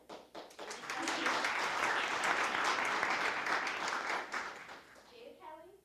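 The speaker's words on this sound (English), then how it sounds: "let's give these 2 very deserving individuals a huge round of applause" An audience applauds the two finalists of an advocacy competition, a dense, steady burst of clapping that swells quickly, holds for several seconds, then tapers off at the end.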